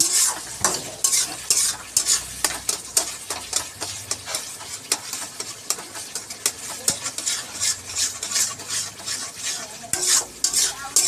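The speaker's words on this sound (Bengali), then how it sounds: "এবার শুধু চিকেনটা দিয়ে দিলেই ব্যাস, কষা হবে।" Chicken being stirred and fried in a pan, with repeated scraping strokes of a utensil against the metal over a steady sizzle, close and rhythmic throughout.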